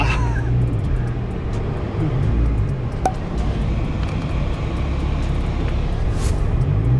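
A Chevrolet Camaro engine idling and running in first gear, a steady low rumble with faint clicks and a brief higher whine near the end.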